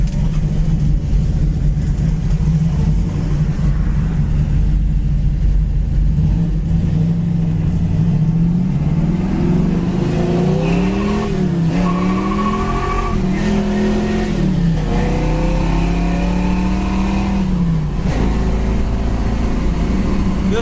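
A 1969 Chevy Camaro engine drones loudly while driving, a steady low rumble that climbs and falls in pitch as the car accelerates and shifts, heard from inside the car with no talking.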